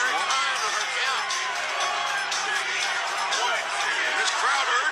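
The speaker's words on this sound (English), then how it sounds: "This crowd urging Punk on." A wrestling video game crowd cheers and chants in a loud, constant roar with bright shouts and whoops, under an excited commentator's voice.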